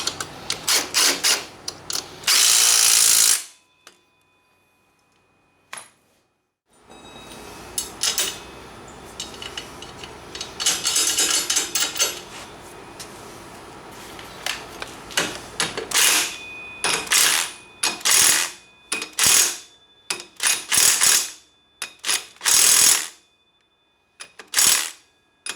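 Front axle bearing nuts on a Banshee ATV being run down with a power tool and ratchet: loud bursts of impact-gun rattle, then repeated sharp ratchet clicks and metallic clinks with pauses, close by in a workshop.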